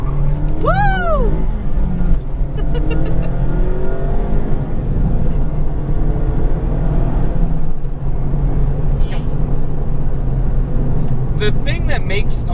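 A 2020 Mazda Miata driving with the top down, its engine droning loudly and steadily throughout, with people talking and whooping over it in the open cabin.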